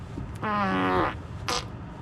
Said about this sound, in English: You have the fart pillow.